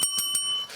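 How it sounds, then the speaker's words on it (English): A small bell is struck three times in quick succession, each strike followed by a short, bright, lingering ring, close and clear with no talk. "The bell gets me excited."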